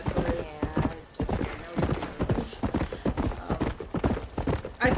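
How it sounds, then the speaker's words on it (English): Horse hooves clip-clop in rapid, steady rhythm in the video game Red Dead Redemption: Undead Nightmare, loud and close over dense game ambience. "I was trying to get off my horse,"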